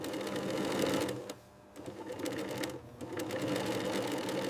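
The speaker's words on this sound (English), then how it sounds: "Luxury stitching begins to form the bag's core structure." A sewing machine stitches a luxury leather bag in a factory, running in steady, fast mechanical bursts with two short pauses between runs, heard close and without talk.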